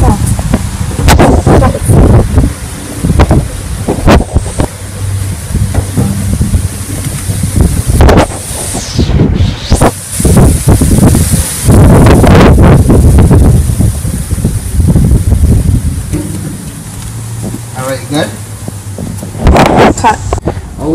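Strong wind gusts outdoors at the abandoned Abercrombie Castle, buffeting the microphone with loud, uneven rumbles while people talk throughout.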